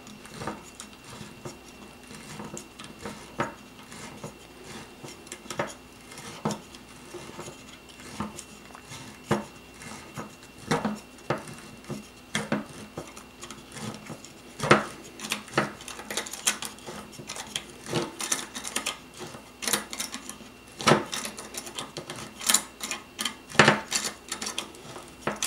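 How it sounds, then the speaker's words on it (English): A manual safety can opener turns its cutting wheel around the edge of a can, producing irregular metallic clicks and scraping ticks that come in uneven bursts, close up and fairly quiet. "The wheel, cutting wheel, goes on the edge. And now you just turn."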